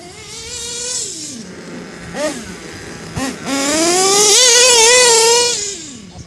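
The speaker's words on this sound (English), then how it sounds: "This is the biggest motor they make. It's an lrp.32." A Mugen RC truggy with an LRP .32 nitro engine revs hard, its high whining buzz climbing and falling in pitch through several bursts, close and loud, with no talk.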